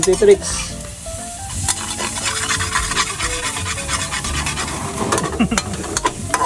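Crispy honey garlic chicken frying in hot oil, a continuous loud sizzle with stirring and scraping of a utensil in the pan, close by, with a few brief voices and clatter mixed in.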